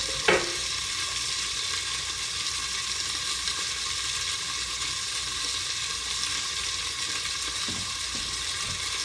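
Pork sizzles in a pan, a quiet, steady frying crackle that holds evenly throughout, with a brief clatter near the start and a couple of soft knocks later; nobody speaks.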